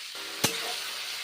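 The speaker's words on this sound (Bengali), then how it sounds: "এখন পটলগুলো ভেজে নিচ্ছি" Pointed gourd, along with mushroom and ridge gourd, fries in a pan with an even, close hiss, interrupted once by a single sharp clack of a stirring utensil.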